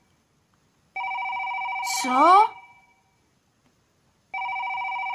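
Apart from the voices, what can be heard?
phone ringing in Toca Boca video game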